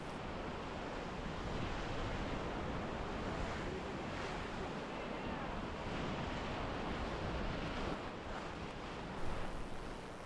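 Rapids on the Middle Fork of the Salmon River at 3.4 feet roar steadily and loudly as a rowed raft rides through a wave train. The broad rushing water goes on without a break, with some wind buffeting the microphone.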